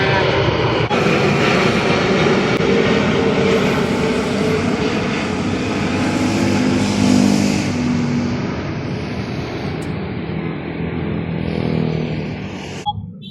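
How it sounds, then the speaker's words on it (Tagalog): An airplane passes overhead near an airport, its loud engine roar filling the scene and slowly fading toward the end, while people talk underneath. "kaya na may aeroplano mo agay sa imong uluhan"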